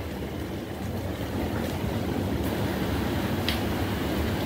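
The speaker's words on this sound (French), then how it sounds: "Ça bouille très bien" Maple sap boiling hard in a sugar-house evaporator, a steady dense roaring bubble and hiss that holds evenly throughout, close and continuous with faint ticks on top and no voices.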